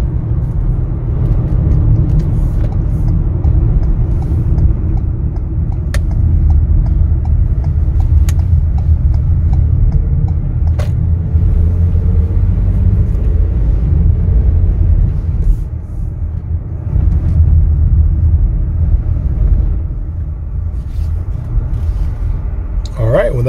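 A 2022 Ford Transit XLT 12-passenger van rolls along on a test drive, its steady low road rumble and engine drone filling the cabin continuously, with a voice talking over it throughout.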